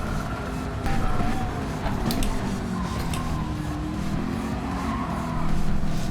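Tires squeal under late, hard braking of a McLaren in the Gran Turismo 7 racing game, with brief high screeches rising over a steady engine and road roar.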